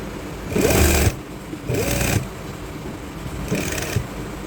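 A sewing machine stitches a trouser waistband in three short bursts separated by pauses, each run a close, buzzing whir.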